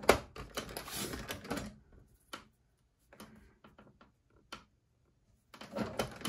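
Paper strips being cut for a scrapbook layout: a run of close, quiet clicking and crisp snipping, then sparse isolated ticks with silent gaps before a final cluster of cuts.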